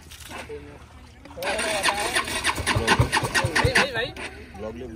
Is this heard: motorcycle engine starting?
yes